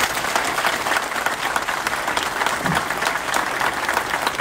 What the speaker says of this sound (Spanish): El aplauso para ustedes, por favor.